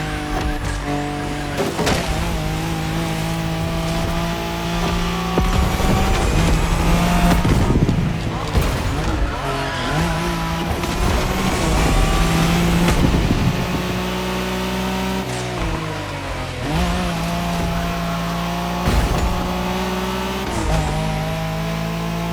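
A Nissan Skyline races in The Crew Motorfest, its engine droning steadily and loudly with rising revs and gear shifts throughout, sometimes swelling harder.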